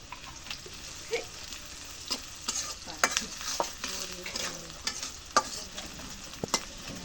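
Oil and meat cook in a pan with a soft sizzle, under scattered clinks and scrapes of stirring and utensil taps at close range.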